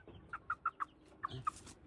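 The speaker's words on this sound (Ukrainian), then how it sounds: "Бірковська барвеста, півничок. Два місяці." A two-month-old Birkivska Barvysta cockerel gives a quick series of about six short, faint clucks and chirps, close but quiet, with a little rustling behind, no voices.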